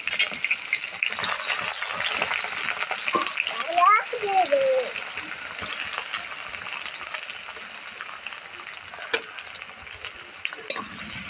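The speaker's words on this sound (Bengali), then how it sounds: "ভালোভাবে পেঁয়াজটাকে ভেজে নিতে হবে। একদম লালচে করে পেঁয়াজটাকে ভেজে নেব।" Chopped onion and slit green chili fry in a pan, giving a continuous bubbling sizzle with a brief burst of stirring scrapes and liquid-like gurgling, softening gradually and joined by a few faint clicks near the end.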